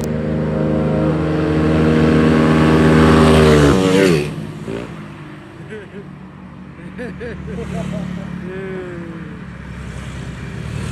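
Tuned Mio 180cc scooter-type motorcycle engine, heavily modified, revving hard in an informal drag test: a loud rising whine that peaks then drops off sharply, followed by further engine passes and revs in the background as a voice talks.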